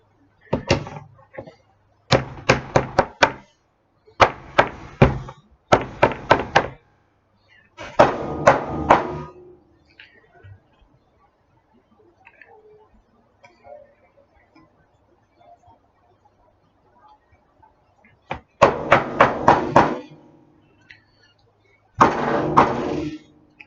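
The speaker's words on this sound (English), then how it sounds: "Get the hammer? Yeah, let's get the hammer." Loud, close hammer blows land in quick clusters of several strikes, then a long quiet stretch with faint shuffling before two more bursts of banging.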